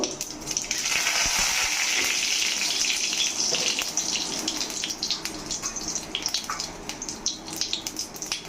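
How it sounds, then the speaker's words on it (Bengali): Cumin seeds sizzle and crackle in hot oil in a heated kadai, a loud broadband hiss that begins strong and gradually settles into a softer, spattering fry with scattered pops. "আমি এর মধ্যে দিয়ে দেবো জিরে ফোড়ন জিরেটা একটু বেশি দিব"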